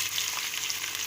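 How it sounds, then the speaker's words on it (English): Onion fries in half a cup of hot oil, giving a steady, close, bright sizzle with a constant hiss and faint crackles and no voices over it. "And now I will fry till onion is light golden in color."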